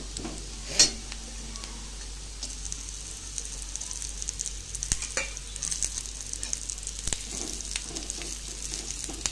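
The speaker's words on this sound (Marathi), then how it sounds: "याच्यातच ह्या तेलामध्येच खोबरं तळून घेऊया।" Grated coconut frying in the leftover onion oil for a Marathi village-style green pea curry, a steady close sizzle with a sharp clink of the spoon near the start and faint stirring scrapes throughout.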